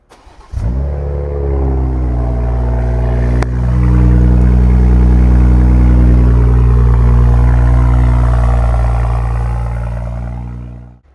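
A 2023 BMW 340i with a 3-litre engine starts with a short burst, settles briefly, then holds a loud, sustained high rev for several seconds before easing down, heard close and alone.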